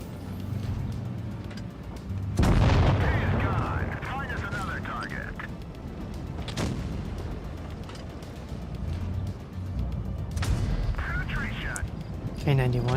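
Tank cannon fire in the WoT Blitz video game: a loud booming shot with a ringing tail, then further heavy blasts over constant engine rumble and battle noise, with a voice talking over it.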